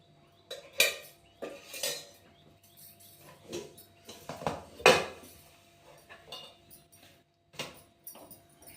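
In a home kitchen, a pan goes onto the stove and cooking oil is spooned in, bringing a run of sharp metallic clinks and clatters of spoon and pan, close and irregular, without speech.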